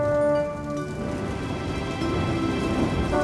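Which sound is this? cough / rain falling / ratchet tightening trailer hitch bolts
rain falling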